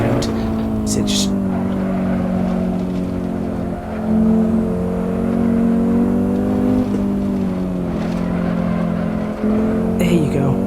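An Audi Sport Quattro, a four-wheel-drive rally car driven on the Nordschleife in Assetto Corsa, its engine droning loud and steady with rising and falling revs, a brief lift-off dip, while someone talks over it.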